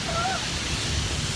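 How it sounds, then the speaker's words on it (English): Seljalandsfoss waterfall in Iceland, heard from behind the falling curtain of water, gives a close, dense and unbroken roar that fills the whole moment with wet hiss. "We're right behind the waterfall right now."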